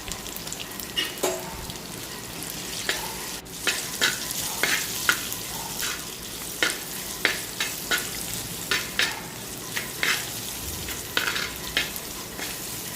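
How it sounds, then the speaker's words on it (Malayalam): Green chilli and onion frying in a pan for a Kerala mackerel curry, a steady close sizzle with repeated scraping stirs of a spoon every second or so, no voices. "അതിനുശേഷം നമുക്ക് സവാള ഇട്ട് കൊടുക്കാം."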